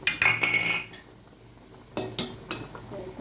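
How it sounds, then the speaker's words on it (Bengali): A metal lid clanks onto a pan of fish simmering in a Sylheti sour tenga curry, with a cluster of sharp metallic knocks, then a quiet gap before a few more clinks. "দিয়ে আবার ঢাকনা দিয়ে ঢেকে দিলাম 2 মিনিটের জন্য"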